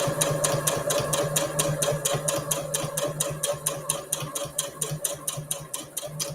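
A sewing machine runs a steady line of top stitching along a fabric gift bag, its needle ticking in a fast, even rhythm of about three strokes per second over a constant motor hum, close and moderately loud, with no talk.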